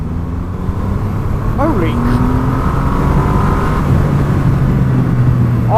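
A Triumph Rocket 3 R 2500cc motorcycle accelerates hard in second gear as the throttle rolls on, its engine note climbing in a loud, continuous surge, with wind noise and a rider's startled exclamation over it.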